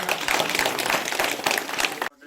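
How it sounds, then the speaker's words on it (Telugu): Applause from a crowd at a village pledge ceremony against illicit liquor, dense continuous clapping for about two seconds that cuts off abruptly near the end. "చప్పట్లు కొట్టాలి"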